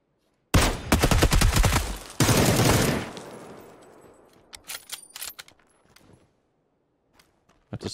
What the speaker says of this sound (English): Were there two guys shooting me?